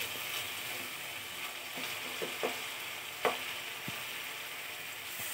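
Masala spice paste for an eggplant dish fries in a pan with a steady soft sizzle, broken by occasional sharp clicks and scrapes of a spatula against the pan; fairly quiet and close, no talking.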